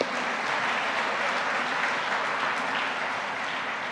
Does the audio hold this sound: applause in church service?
yes